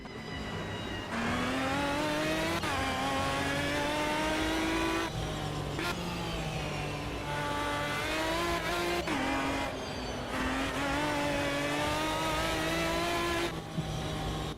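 GT race car engine in the Automobilista 2 racing game, revving hard and loud throughout with rising pitch sweeps and sharp gear-change breaks, the note climbing and dropping repeatedly as the car accelerates.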